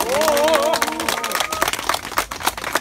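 Applause from a crowd at an autumn hiking rally with former party leader Moon Jae-in, with a voice calling out over the start and then scattered clapping bursts continuing near and fairly loud.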